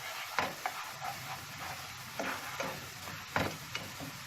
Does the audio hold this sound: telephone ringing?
no